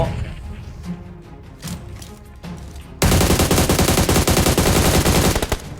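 Gunfire in the mobile battle royale game PUBG Mobile: a few scattered shots at first, then a loud, rapid, sustained automatic burst firing continuously for several seconds, close and dominant.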